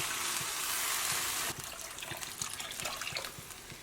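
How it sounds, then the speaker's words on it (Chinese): Water pours into a pot of stir-fried carrots and seafood mushrooms for soup as a steady rushing stream, then stops abruptly, leaving softer crackling and bubbling from the pot. "再根据家人的饭量，添加适量的清水"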